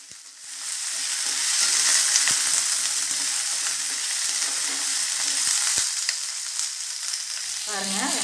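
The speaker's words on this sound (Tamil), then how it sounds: "பூண்டு 3 போட்டு நல்லா பொன்னிறம் ஆகிற அளவுக்கு வறுத்துக்கணும்." Garlic cloves frying in oil for pudina chutney, a loud, steady sizzle with a couple of faint utensil taps.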